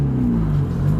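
A 2015 Zero DS electric motorcycle pulls at full throttle up a hill, giving a steady low drone with a faint whirring hum that holds even throughout, close and fairly loud.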